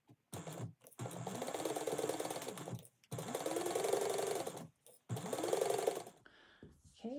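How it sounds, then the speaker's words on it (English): A sewing machine basts fabric at an eighth-inch seam in three steady mechanical runs of a second or two each, separated by short pauses, close and clear with no talking. "I'm just going to go ahead and baste this on at 1/8 of an inch"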